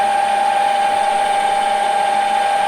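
A drill bores a hole in a machined part, giving off a steady, unbroken tonal whine with constant loudness throughout and no talk.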